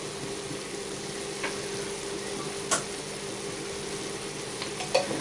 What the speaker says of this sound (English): So mix that round, mix the garlic round.